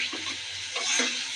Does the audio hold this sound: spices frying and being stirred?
yes